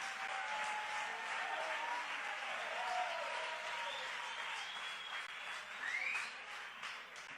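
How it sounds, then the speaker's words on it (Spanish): Applause from a church congregation, a steady wash of clapping with some whistles and shouts, held at moderate level throughout without a break. "denle un aplauso fuerte si eso es para Dios"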